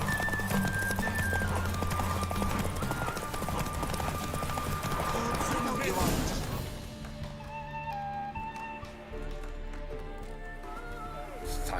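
Roach, a horse in The Witcher 3, clip-clops along with steady rhythmic hooves under music and ambient game sound, the footfalls continuing clearly and close throughout.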